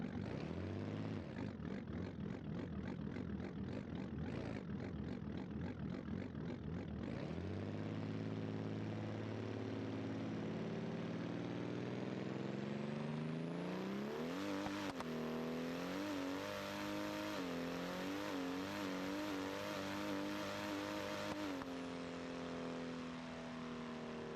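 Drag car in BeamNG Drive on a base test run without nitrous, with a slightly slipping torque converter: a loud engine bursts through staccato revs, then climbs in a long rising roar that holds high before fading.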